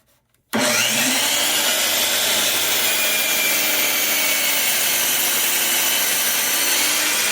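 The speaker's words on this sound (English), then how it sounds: "we're going to go ahead and chop this off at the miter saw" After a brief quiet moment, a miter saw roars to life and cuts steadily through wood, loud and close, a continuous high whine with no talking.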